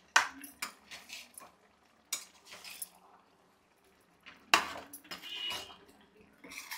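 A metal spoon scrapes and clinks around a cooking pot as gongura leaves and chicken are stirred together, producing irregular bursts of clatter separated by short pauses.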